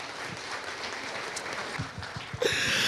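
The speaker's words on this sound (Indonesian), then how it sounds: "bolehlah tepuk tangan sekali lagi untuk Bu Dewi Hesni" Steady audience applause at an Indonesian talk event, continuous dense clapping throughout with a few louder claps near the end, moderately distant and without voices over it.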